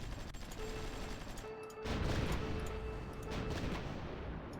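Artillery fire in the strategy game Supreme Ruler 2030, a dense, rumbling barrage of distant booms and crackling gunfire that swells partway through and holds at moderate volume, with no voices.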